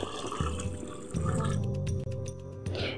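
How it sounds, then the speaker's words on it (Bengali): Rice and split black gram being washed by hand in water, with sloshing, swishing and dripping sounds that come in bursts, close up and fairly loud, and no one speaking. "এবার আমি বেশ কয়েকবার জল পাল্টে এই চাল আর বিরিটাকে ভালো করে ধুয়ে নিচ্ছি যতক্ষণ না জলটা ক্লিয়ার হচ্ছে"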